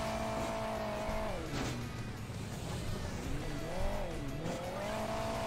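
A boosted car races along a desert cave track in Hill Climb Racing 2, its engine a steady, loud drone whose pitch dips and rises twice as the car speeds up, with no talk over it.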